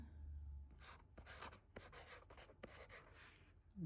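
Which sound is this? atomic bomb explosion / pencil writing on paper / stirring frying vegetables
pencil writing on paper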